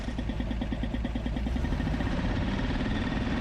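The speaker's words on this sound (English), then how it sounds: "Yes, the engine is roaring now." An old abandoned bus engine that has just been started runs on continuously, a loud, rough, throbbing idle with a steady pulsing rhythm and a rattly vibration, and no talk over it.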